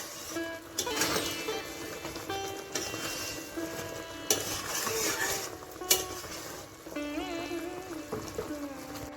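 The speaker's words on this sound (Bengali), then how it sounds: "এবার এখানে আমরা আমটা ভালো করে নেড়ে রাখবো" Raw mango pickle is stirred in a pan, with steady scraping strokes and a soft sizzle under it, close and moderately loud, with occasional louder knocks of the utensil.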